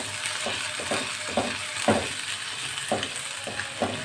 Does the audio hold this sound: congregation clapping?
no